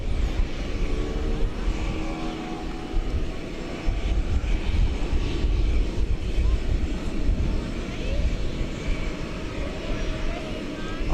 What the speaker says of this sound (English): I spy with my little eye a 757